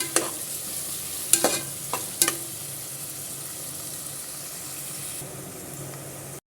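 Masala sautés in a pan for chicken kulambu, a continuous hiss of frying with a few sharp scrapes of the spoon early on, then steady sizzling alone, close and fairly loud.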